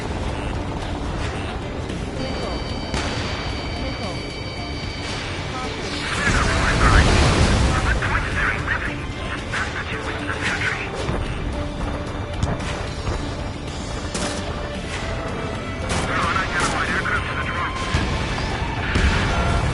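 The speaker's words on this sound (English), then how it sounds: "We're taking fire!" Ace Combat 7 aerial combat with gunfire and explosions, a dense loud mix of booms, cracks and crashes that swell midway, with radio chatter voices over the action throughout.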